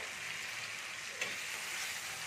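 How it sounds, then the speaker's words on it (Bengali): Chicken coated in masala frying in a pan over low gas as it is stirred, giving a continuous close sizzle with one faint scrape of the spoon partway through. "এবার আমি এটাকে নেড়ে নেবো একটু, গ্যাসটা কম করে দিয়ে নাড়তে হবে।"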